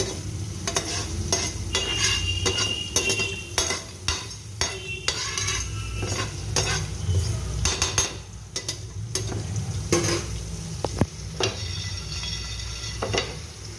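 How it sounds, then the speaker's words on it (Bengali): Whole spices dry-roasting in a pan with no oil, being stirred briskly: repeated close scraping and rattling strokes of a utensil against the pan, with a light crackle underneath and no talk. "এবার আমি খুব সুন্দর করে এই মশলাগুলোকে একটু রোস্ট করে নিয়ে ড্রাই গ্রাইন্ড করে নেব"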